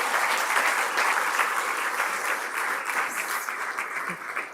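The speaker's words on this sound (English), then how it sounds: "let you join me applauding Matt" Audience at a plenary session of an astronomy conference applauding a speaker, a sustained even wash of clapping that fades slightly toward the end.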